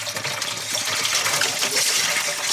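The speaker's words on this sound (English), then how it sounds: "Throwing the water in." Water gushes into a cooking pot in a steady, loud, splashing pour that lasts the whole moment, with no talking over it.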